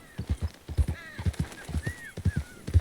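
A borrowed horse ridden on a journey, its hooves clip-clopping in a steady, close rhythm, with a few brief whinny-like calls rising over the hoofbeats.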